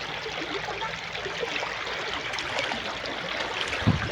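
Continuous rushing and trickling of a clear village stream, steady and fairly close, with no voices.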